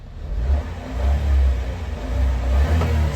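A Honda car engine with a boggy, hesitant response that needs a carburetor rebuild, revving in repeated swells over a steady low rumble, loud and close with no voices.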